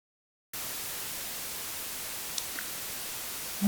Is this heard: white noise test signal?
yes